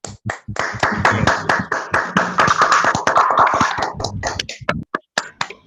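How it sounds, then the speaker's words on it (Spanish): An online seminar audience on energy and sustainability claps after a talk, a dense run of hand claps that thins out into a few scattered, separate claps near the end. "así le damos un aplauso a Daniel y Marina por la linda charla"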